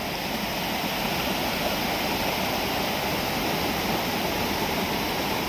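Floodwater from a dam in Odisha rushes over in heavy rain, making a loud, unbroken roar like a waterfall that fills the whole scene at close range, with no voices.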